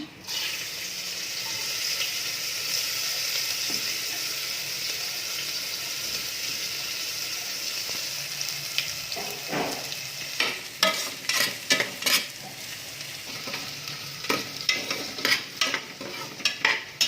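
Cumin, ginger, garlic and chopped pepper frying in coconut oil, a steady sizzle that turns into a run of sharp scraping stirs and spatters in the second half, close and fairly loud.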